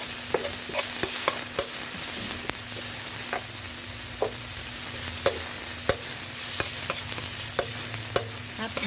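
Minced pork stir-fried with garlic in a pan, a steady soft sizzle with repeated sharp scrapes and taps of the spatula every second or so, close and alone without talk.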